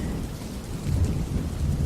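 Steady rain with rolling thunder, a dense low rumble swelling louder midway through and holding under continuous hiss, with no voices.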